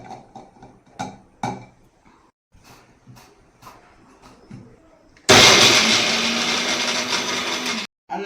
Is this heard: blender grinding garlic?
yes